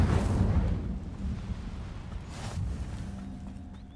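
The Incendio fire spell cast in the video game Hogwarts Legacy: a loud roaring whoosh of flame bursting out and fading into a rumbling crackle over a few seconds, with no talk.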